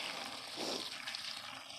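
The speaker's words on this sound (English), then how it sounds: "I'm trying to cover everything with water" Water pours into a black bucket packed with stinging nettles, set out in the sun to ferment as homemade fertilizer, making a steady rushing splash that briefly swells and then settles into a softer, continuous flow.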